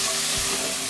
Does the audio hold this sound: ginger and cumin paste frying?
yes